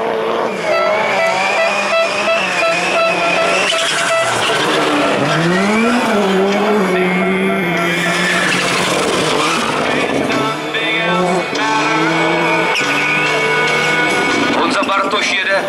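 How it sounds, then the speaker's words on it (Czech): A Skoda Fabia race car in a Touring AX heat at Přerov, driving hard on a muddy track: loud engine revving and shifting pitch through corners, close and continuous, with a commentator talking over it. "jede jistěji na tom rozbláceném povrchu než Aleš"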